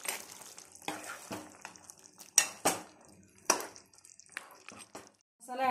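A pot of mutton curry with masala and coriander being stirred, a spoon scraping and clinking against the pot in irregular close knocks with soft sizzling between them.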